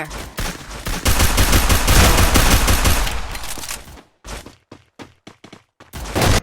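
Pistol gunfire erupts in a dense, loud volley of rapid shots, then breaks into several separate sharp bangs with brief silences between them.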